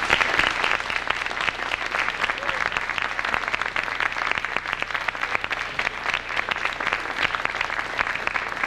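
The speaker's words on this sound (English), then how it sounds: "Could we have some more applause for Natalie Davis?" Sustained, dense applause from a lecture audience honoring historian Natalie Zemon Davis, a steady wash of many hands clapping at even loudness throughout, with no talk over it.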